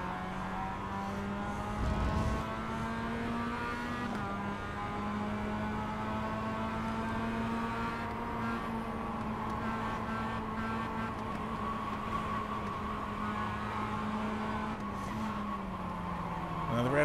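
Mazda MX-5 race car engine in iRacing at the Oschersleben circuit, a steady droning buzz holding pitch with small shifts as gears change, continuous and fairly close, with faint tire noise.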